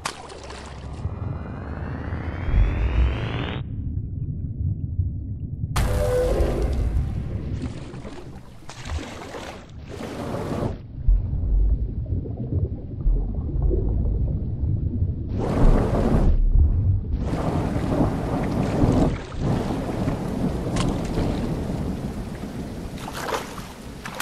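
Steady heavy rain pours through a stormy scene in the horror video game Horror Tales The Beggar, with deep rolls of thunder rising and fading over the continuous downpour and no voices.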